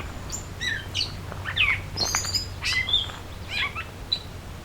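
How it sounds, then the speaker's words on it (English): A gray catbird sings in a summer swamp, a run of varied squeaky chirps and short whistled phrases in quick irregular bursts over a steady low hum, with no talking. "Now it's time for the catbird to sing."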